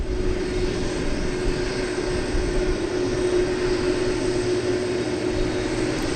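A steady, loud engine roar from an airplane at DFW Airport at night as it heads toward runway 18 left for takeoff, holding a constant droning hum with a sustained tone and no breaks.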